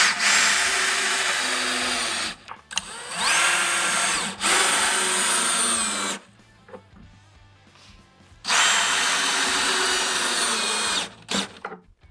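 A power drill drives screws into a wooden podium-style entry table in three loud, close bursts of whirring, separated by short pauses with quiet handling noise.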